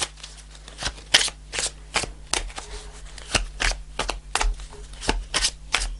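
Tarot cards being shuffled and riffled from a deck, a rapid run of crisp papery flicks and slaps close to the listener, with no talking over them.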